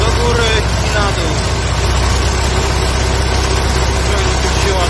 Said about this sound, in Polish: Silnik się ładnie rozgrzał.